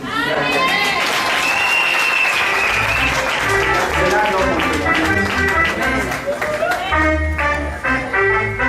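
A congregation at an evangelical mission conference breaks into loud, sustained applause that fills the whole stretch, with voices rising above the clapping.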